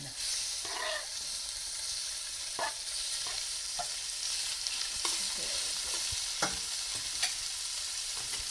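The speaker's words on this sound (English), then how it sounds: "And now we could start adding the tuna in." Fresh tuna goes into a pan of golden-fried garlic and sizzles loudly and steadily, with occasional utensil scrapes and taps over the constant hiss.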